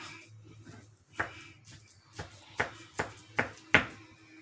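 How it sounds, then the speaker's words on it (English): Knife chopping drained spinach on a board, about six sharp distinct strikes spaced irregularly, getting a bit louder toward the end, over quiet background. "Once you get all the water drained out of it, you want to just chop."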